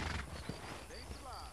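Horse in the Red Dead Redemption video game, with hoof clip-clop and a brief whinny sounding under steady close talk.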